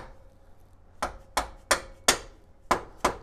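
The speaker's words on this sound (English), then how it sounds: "we'll just have to use our rubber mallet to give it a little persuasion" Rubber mallet tapping a QA1 rear coilover part into place on an 86 Monte Carlo SS, six sharp, close blows after a quiet start, the first ones spaced out and then coming quicker in pairs.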